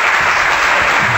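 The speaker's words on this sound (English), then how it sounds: "That's not enough applause." Applause from a studio audience at a live cooking and talk show, a steady dense burst of clapping close and loud, with no voices over it.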